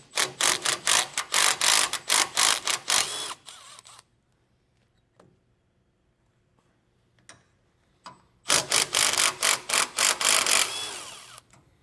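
A ratchet clicks rapidly while removing two 10mm nuts from a heat exchanger, with a burst of loud ratcheting, a near-silent pause with a few faint taps, then another burst of clicking.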